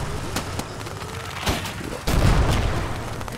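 Gunfire from a World War II battle in the Gates of Hell strategy game, set around an abandoned factory under Soviet attack: scattered sharp shots over a constant battle rumble, with a heavier blast about two seconds in.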